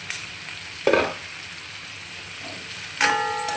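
Capsicum fries in a pan for biryani, giving a steady low sizzle with a few clinks of a utensil against the pan, one near the start and a brighter one near the end.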